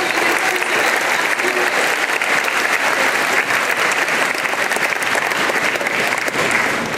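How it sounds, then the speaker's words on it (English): Loud, sustained audience applause at an 8th grade promotion ceremony, a dense crowd of clapping hands filling the space evenly for the full stretch without pause. "Give an applause."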